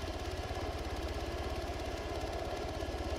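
A military vehicle engine in Arma 3 idles steadily, with a close, even low rumble and a regular throbbing pulse, heard alone without talk.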